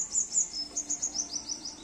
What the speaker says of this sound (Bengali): ওই দেখো টুনটুনি পাখি